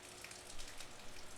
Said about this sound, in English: that sound of water falling. It's 5:40 in the morning and it's raining.